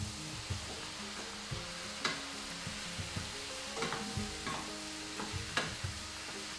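Vegetables stirred in a hot frying pan for Filipino-style chicken à la king, with a steady low sizzle and scraping stir strokes recurring through the clip, no voices.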